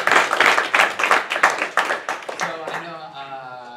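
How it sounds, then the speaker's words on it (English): A brief round of applause from the audience at a bot-building hackathon event at Holberton School, distinct bursts of clapping from a modest group that taper off, followed by a voice beginning to speak. "Just one last round of applause for the folks."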